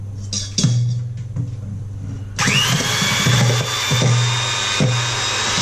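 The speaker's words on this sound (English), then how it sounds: "what we want to do with electric hand whisk is whisk them together" An electric hand whisk starts up with a whirring buzz and runs steadily, close by, whisking oil and eggs together for a carrot cake, with periodic knocks and clatters of the beaters against the bowl.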